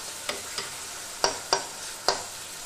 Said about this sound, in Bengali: এবার আমটাকে আমি একটা খুন্তির সাহায্যে একটুখানি এরকম করে এটাকে একটু ক্রাশ করে দেব